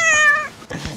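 A cat gives a single close, loud, tonal meow, followed by a brief rougher growl-like sound, with no talking over it.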